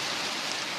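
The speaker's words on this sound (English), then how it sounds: "I don't think we've had a hailstorm like this" Hail pelting down during a hailstorm on a holiday, a dense, steady hiss of countless small impacts like heavy rain striking a hard surface, loud and continuous with no voices.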